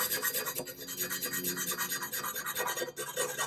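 A metal hand file scrapes rust off a cement mixer in quick rhythmic rasping strokes, close and alone, a dozen or so back-and-forth passes.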